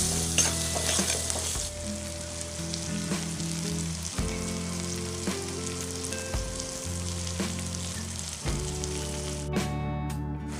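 Spices and slit green chillies sizzling and frying in a pan for a Bengali mourala fish curry, with a steady crackling hiss and repeated scraping stirs throughout.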